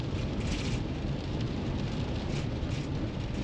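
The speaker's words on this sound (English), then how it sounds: "Here we got rain and 50 degrees." Steady rain falls on a roughly 50-degree day, a dense, even hiss with no pauses and no voices.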